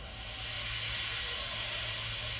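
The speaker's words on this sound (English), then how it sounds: "He just let off steam feebly." A steam locomotive feebly lets off steam, a continuous soft hiss held steady for a couple of seconds, alone with no talking.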